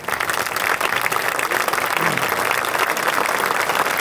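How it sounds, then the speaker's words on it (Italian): Concert audience applauding loudly as a young composer is called onto the stage at a Colli Morenici Symphony Orchestra performance. The clapping is a thick, continuous roar of many hands that stays strong throughout, with no speech over it. "Un applauso."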